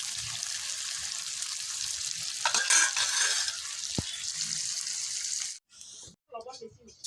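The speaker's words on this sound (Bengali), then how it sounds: "গোল্ডেন ফ্রাই করব পেঁয়াজটাকে।" Onions fry in a pan toward golden, a bright hissing sizzle with stirring scrapes, broken by brief pauses and a short voice near the end.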